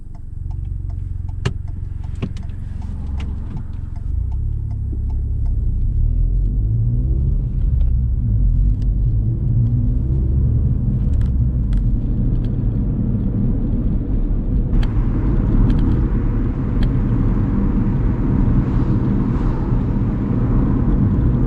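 A car pulling away during a UK extended driving test, engine rumble swelling after a few seconds into a steady drive with faint ticking from inside the cabin.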